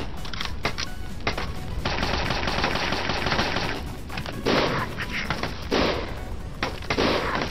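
Sniper rifle fire in the zombie defense game Dead Plague: Zombie Outbreak, a loud, close series of sharp repeated shots in rapid bursts with short gaps, against a busy game background.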